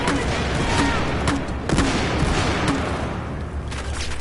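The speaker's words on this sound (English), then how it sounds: "Yes, I got 2 with the grenade launcher." Grenade launcher blasts and gunfire boom through a Battlefield 4 match, a dense, loud, continuous barrage of explosions and shots with no pause.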